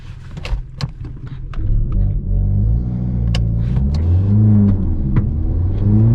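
Modified VW Golf Mk6 1.4 TSI launching with traction control off: a few sharp clicks, then the engine surges and revs unevenly, rising and wavering as it bogs, loud and close inside the cabin.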